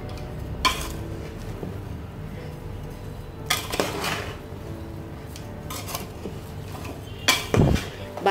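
Mango pieces are tossed with dry masala for avakaya pickle, giving soft scraping and stirring sounds with a few clinks of a spoon against a metal bowl, fairly quiet and close.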